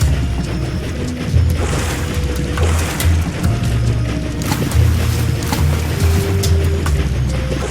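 A boat's engine rumbles steadily as it moves across water in the video game Lightfall, with churning wash and splashing throughout and no voices.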